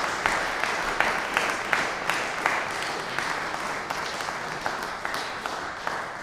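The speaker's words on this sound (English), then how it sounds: "Another round of applause." A church congregation claps steadily in a dense, sustained round of applause for an organist's 50 years of service, many hands at once filling a large church.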